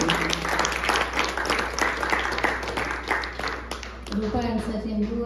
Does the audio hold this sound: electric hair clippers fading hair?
no